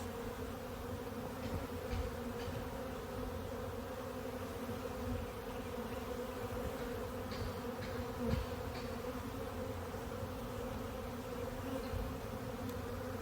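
Honey bees swarm around a frame pulled from a hive holding capped queen cells, giving a constant, dense buzz close by and undisturbed for the whole stretch, with no talking.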